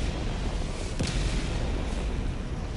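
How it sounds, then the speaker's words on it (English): A video game explosion, one sharp booming blast that rises out of steady game noise and rumble, then decays into the continuing din. "Because the explosion is behind him when he does that."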